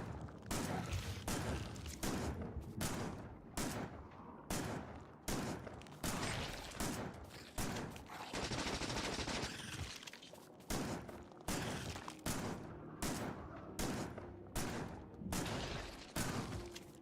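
Automated turrets in the Factorio video game fire nearly nonstop at enemies, loud rapid bursts of gunfire crackling in dense repeated volleys, with only brief pauses between clusters of shots.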